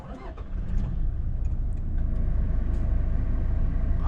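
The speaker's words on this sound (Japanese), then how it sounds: "ディーゼルエンジンなので、ね、ちょっとね振動と音は聞こえますね" A 2020 Toyota Hilux pickup's diesel engine turns over and settles into a loud, steady, rumbling idle, heard close up with a low vibrating throb.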